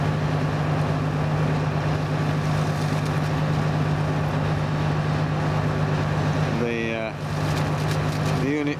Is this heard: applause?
no